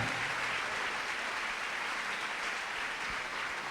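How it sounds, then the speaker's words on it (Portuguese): A church congregation in São Vicente applauds during a worship service, a soft, even patter of many hands heard from a distance, steady and unbroken with no speech over it. "Você pode aplaudir Jesus"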